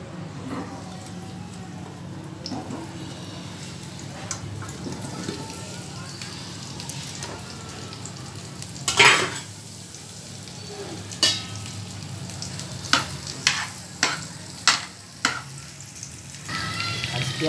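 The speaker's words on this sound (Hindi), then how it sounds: "प्याज को बिल्कुल धीमी आंच पे हम ऐसे ही हिला कर चलाते रहेंगे थोड़ी थोड़ी देर बाद" Masala-stuffed onion pieces fry in a pan over a very low flame, a soft steady sizzle broken by occasional sharp stirring clicks and scrapes, growing more frequent near the end.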